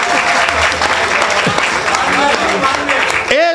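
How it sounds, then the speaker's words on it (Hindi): Audience applause at a Hindi comic poetry recital (hasya kavi sammelan), a dense sustained clapping that fills the whole clip while a voice speaks over it near the end. "भाई तालियां जरा हो जाए,"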